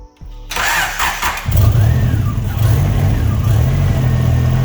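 A turbocharged Honda car cranks briefly, then the engine catches and settles into a loud, steady idle, recorded close by with no talk.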